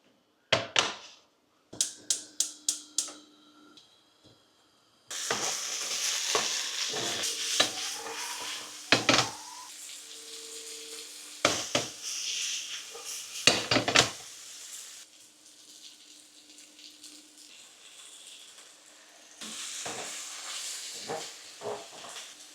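Vegetables sizzle and hiss in olive oil in a pan, with intermittent clinks and scrapes of stirring over a steady frying crackle; a few sharp utensil taps come early.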